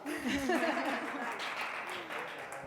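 Audience applause follows a presentation on contemporary drink trends, a steady wash of clapping with a few voices and laughs mixed in near the start, fairly distant and even in level.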